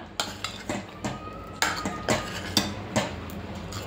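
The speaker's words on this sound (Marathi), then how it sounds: "छान मिक्स करून घेऊया।" A spoon stirs a thin vegetable curry of chandan batwa and spinach with ground peanuts in a metal pot, making repeated sharp metallic clinks and scrapes against the pot at an uneven rhythm, close up and without speech.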